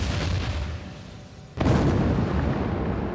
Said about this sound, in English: When you see a thermite reaction take off, you know something's happening.